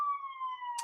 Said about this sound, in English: Sorry for the sirens, y'all.